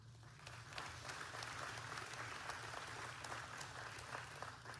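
A seated audience applauds a state governor's policy address, steady dense clapping filling the hall from start to finish at moderate loudness with no one speaking over it.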